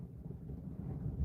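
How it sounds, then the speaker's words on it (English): Wind blowing outdoors near a secret entrance at Area 51, a steady low rumbling gust buffeting the microphone throughout with no other clear sounds. "Getting windy out there."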